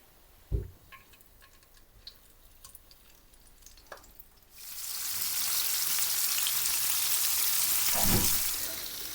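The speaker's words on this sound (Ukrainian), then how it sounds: "І кладемо смажитись." A few soft knocks and clatters, then a loud, steady sizzle of capelin frying in hot oil starts abruptly and continues to the end.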